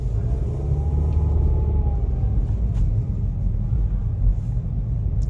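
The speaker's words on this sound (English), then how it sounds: "we're rolling out over the speed bump out of the parking lot" A car rolls out of a parking lot over a speed bump, its low engine rumble steady and close with a faint rising whine, no talking.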